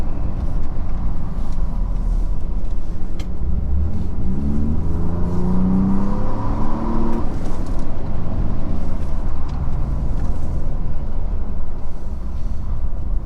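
A Ford Raptor pickup truck engine drones loudly and steadily, climbing in pitch as it revs up, then settles back into a low rumble, with no voices.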